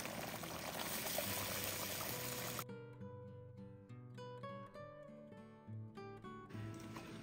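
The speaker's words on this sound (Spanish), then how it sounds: "le voy a agregar una taza de agua a la licuadora. La voy a agregar a la olla también." A cup of water is poured from a blender into a pot of Zacatecas-style pork stew, making a steady, close splashing rush for about two and a half seconds. Soft tonal music follows once the pouring stops.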